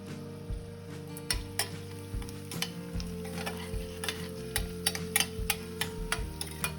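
Crushed garlic sautés with onions in a pan, a soft continuous sizzle punctuated by regular sharp clicks and scrapes of a spoon stirring against the metal.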